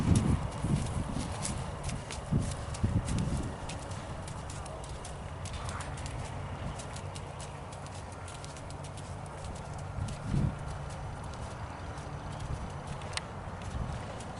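A horse walks at an easy pace during a riding lesson, its hooves giving a regular clip-clop close by while people talk over it.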